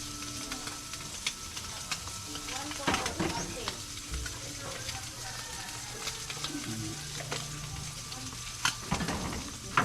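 An anchovy omelette (tortang dilis) fries in oil with a steady crackling sizzle and occasional stirring scrapes, while a voice talks faintly over the cooking.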